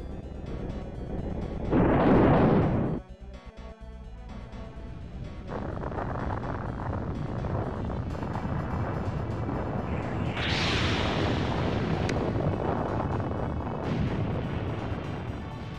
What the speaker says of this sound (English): Causes a number of high heat explosions.